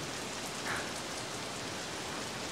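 Steady rain falling on a rainy day, a dense, even hiss of drops filling the whole stretch at a constant level, with no voices.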